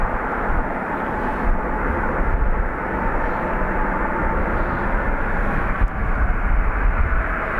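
Airbus A321neo jet at Dublin Airport, a steady broadband engine roar that holds at an even, fairly loud level throughout, with no voices over it.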